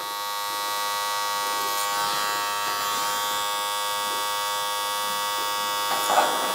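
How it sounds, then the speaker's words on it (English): Electric hair trimmer with no guard buzzes continuously while cutting hair for a mullet haircut, a close, steady high-pitched electric hum with slight changes as it moves through the hair. "From the trimmer, we're gonna go open no guard, again, following the same angle."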